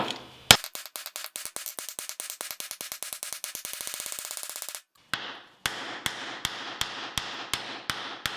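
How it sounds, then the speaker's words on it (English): A small ball peen hammer strikes floor tile in sharp, ringing taps, a rapid run of evenly spaced blows, then a brief pause before slower, heavier knocks. "this little ball peen hammer is doing a pretty good job using the ball end"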